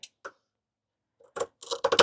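Scissors cut through a piece of fabric for a sewing project in a few short, close snips, sparse at first, then several quick bursts in a row.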